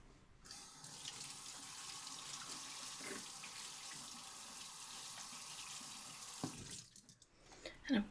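Water runs steadily from a kitchen tap into a sink while something is washed during home baking, a close, even hiss and splash lasting about six seconds before the flow cuts off, followed by a few soft handling clunks.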